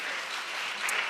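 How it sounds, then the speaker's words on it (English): Applause at a national reading competition awards ceremony, a brief burst of dense clapping from an audience at a moderate distance, steady throughout. "Let's give her a round of applause."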